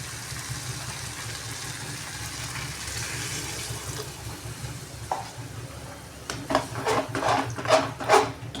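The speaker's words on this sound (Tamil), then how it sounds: "இப்போ தண்ணி ஊற்றிக்கலாம்" Water pours into a pan of sundakkai kara kuzhambu, a spicy turkey berry curry with coconut, landing as a splashing, sizzling gush in the last few seconds after quieter stirring and frying noise, with no talking.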